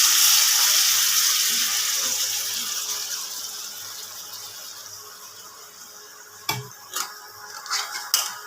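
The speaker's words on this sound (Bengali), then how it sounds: "জলটা দিয়ে দিলাম।" Water pours into a pan of frying onion, ginger-garlic paste, yogurt and chili for a Bengali pomfret fish curry, a rushing hiss that fades gradually, followed by a few sharp knocks and clatters.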